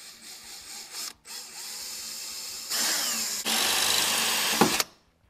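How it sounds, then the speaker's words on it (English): Unibit power drill boring into the body of a 1994-98 SN95 Ford Mustang, a whining motor that pauses briefly, then grows louder and harsher as the bit cuts through metal, ending abruptly. "So start drilling into this beautiful car."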